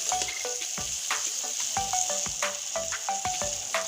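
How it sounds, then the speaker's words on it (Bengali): Potatoes frying with onions in a pan for a rohu fish curry, a dense close sizzle with sharp scraping taps of a spatula stirring at an irregular, busy rhythm, no voices. "পেঁয়াজের সঙ্গে আলুটা কষিয়ে নিচ্ছি দেখুন"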